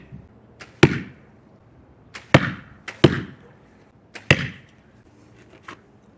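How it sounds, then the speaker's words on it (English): An arrow with a forged fork arrowhead made from silverware strikes a target four times, each a sharp, loud close impact with a short rattling decay, spaced irregularly about a second apart with faint softer ticks between. "Let's get you guys a couple shots of it hitting the target so you can see"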